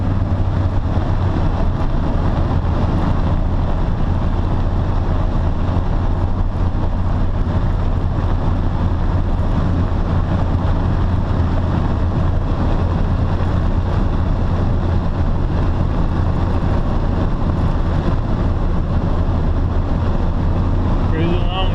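A first-generation 12-valve Cummins diesel truck tows a load while cruising at 60, its deep, steady drone mixed with road and wind roar inside the cab, continuous and loud throughout.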